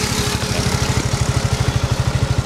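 A Suzuki Gixxer motorcycle engine idles after a remote keyless start, giving a close, loud, rapid and steady single-cylinder putter with regular pulses.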